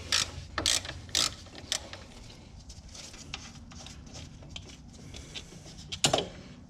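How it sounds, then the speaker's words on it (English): Ratchet working a 10 mm bolt loose on a Porsche 996 during a coilover install, close sharp clicking in bursts with pauses and a final louder clack, no talking. "And take the 10 millimeter bolt out."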